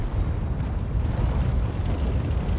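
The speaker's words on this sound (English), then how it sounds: "Passing the coordinates over to the battleship for a direct hit." Battleship artillery shell striking in the World of Tanks video game, a loud, deep, continuous rumbling boom that rolls on without a break.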